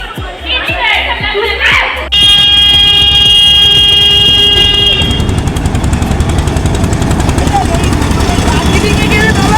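A train at a railway museum with a toy-train station: after a few low thumps, a loud, sustained horn blast sounds for about three seconds, then rumbling running noise carries on, with people talking nearby.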